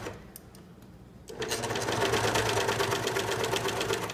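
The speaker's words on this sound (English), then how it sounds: "if you're on a serger, an overlocker, then just kind of gently make it line up with your edge" A serger overlocker sews along a fabric edge, starting after about a second of quiet room noise and then running as a loud, steady rapid stitching whir to the end.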